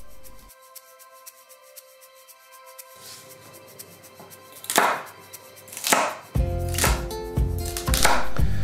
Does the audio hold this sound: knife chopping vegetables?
yes